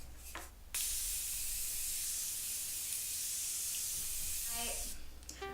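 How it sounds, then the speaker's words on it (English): Morphe Prep and Set setting spray misted onto a face in one long, steady, close hiss lasting several seconds, with a brief softer moment at each end. "I'm going to set my face with the Morphe Prep and Set Setting Spray"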